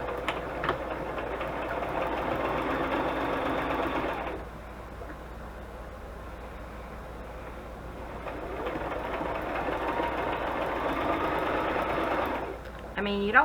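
A sewing machine stitches scrap paper pockets in two steady, whirring runs with a quiet pause between them, heard close up with an even mechanical hum and rattle.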